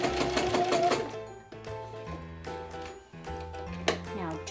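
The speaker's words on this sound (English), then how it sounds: "Now we're going to turn and sew the top down." A sewing machine stitches down the top edge of a fabric face mask in short bursts of rapid mechanical chatter with brief pauses between runs, recorded close and fairly quiet, with a voice talking underneath.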